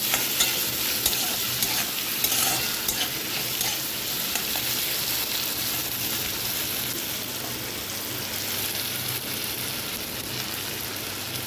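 Ginger-garlic paste, green chilli paste and tomato sizzle in oil in a pan while they are stirred. A steady, fairly loud frying hiss carries on throughout with light stirring scrapes and no voices.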